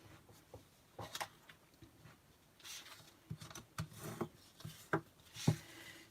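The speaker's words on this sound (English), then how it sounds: "you're just folding and burnishing now" Scored cardstock for a card box is folded and burnished, heard as faint close rubs, creases and soft taps in scattered bursts.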